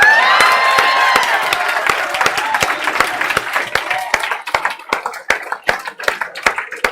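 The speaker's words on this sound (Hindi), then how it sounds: "ताली बजा दो एक बार ताली।" Classroom of students clapping together, a dense burst with a few cheers that thins into scattered individual claps over several seconds.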